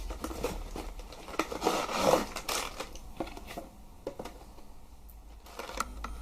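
Box packaging for a JJRC H67 quadcopter drone being opened: a run of close rustles, scrapes and crinkles, busiest in the first few seconds, then lighter scattered handling noises.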